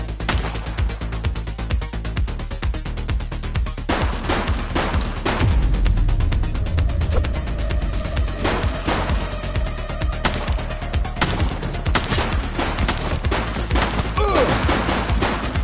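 Rapid gunshots ring out in The Precinct on PS5, loud dense bursts of gunfire firing almost continuously over a steady game background, with no talking.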